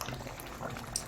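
Curry of vegetables and ground chicken simmers in a pot, giving a soft, steady bubbling with faint pops, close and quiet.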